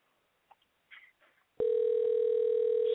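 A few faint clicks and soft dialing sounds, then a loud steady telephone tone starts abruptly and holds continuously to the end, as a phone line is dialed for a radio call.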